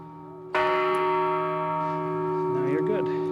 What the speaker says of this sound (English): I'm pretty sure this infernal bell is trying to tell me something